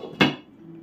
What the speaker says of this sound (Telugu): మూత పెడతాను.